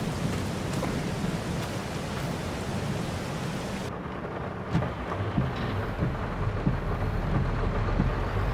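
Steady rain falls in Farming Simulator 22 on a Missouri farm, a continuous broadband hiss with soft low rumbles, its high end dropping away partway through while the downpour carries on alone.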